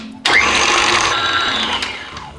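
An electric mixer beats an egg into butter and sugar, starting abruptly with a loud whirring motor tone that holds steady for about two seconds, then eases off a little toward the end.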